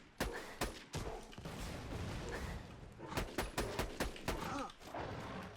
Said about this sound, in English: We can't miss too many shots on this rabbit